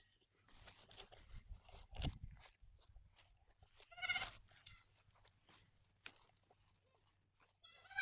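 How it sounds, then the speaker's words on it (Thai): Several goats bleat near and loud outdoors on a quiet morning, short wavering cries breaking out at intervals between rustling and crunching sounds of grazing. "มีแพะสี่ตัวมาตามครับ"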